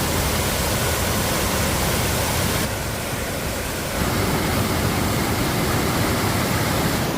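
Steady, loud rush of a waterfall along a woodland walking trail in Germany, a continuous broadband roar that dips briefly in the middle before resuming, with no voices.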